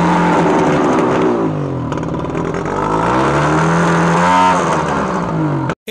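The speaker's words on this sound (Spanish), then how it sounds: "Hoy vamos a echarle metanol a un motor normal, sin ningún tipo de modificación." A stock, unmodified car engine running on methanol, revving steadily up and down for several seconds, loud and close, alone before cutting off abruptly at the end.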